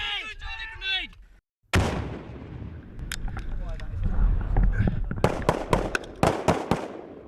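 A grenade blast on an army training range in Kenya: a sudden loud broadband boom after a brief silence, followed by rumbling aftermath and a series of sharp, distant cracks of live fire, with voices heard at the start.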